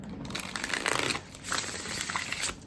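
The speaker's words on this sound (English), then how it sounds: "one more shuffle and we'll get started" Tarot cards being shuffled by hand, a soft, close crinkling and riffling in two bursts separated by a brief pause.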